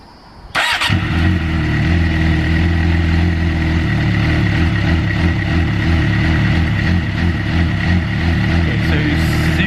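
Suzuki GSX-R K6 motorcycle engine starts and settles into a loud, close idle that hunts, its revs pulsing unevenly up and down.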